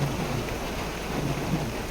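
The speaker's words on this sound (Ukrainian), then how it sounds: "Ой, лє так, що зараз вже залє мені в машину." Steady, dense heavy downpour pours without a break over a wheat field, a broad continuous wash with a low rumble underneath; no voices.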